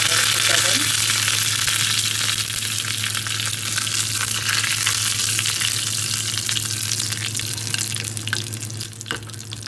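Curry leaves frying in hot oil for the tempering of a winter melon curry, a steady close sizzle throughout with faint clinks and a brief watery splash near the start.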